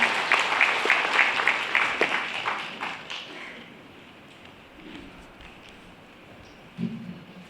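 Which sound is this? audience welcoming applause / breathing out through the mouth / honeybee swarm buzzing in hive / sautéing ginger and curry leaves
audience welcoming applause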